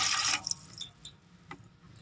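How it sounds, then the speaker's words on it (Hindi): Water is poured into a cooking pot for steaming foil-wrapped fish. A short splashing pour is followed by scattered drips and light clinks in a quiet kitchen. "अब बर्तन में पानी डालेंगे"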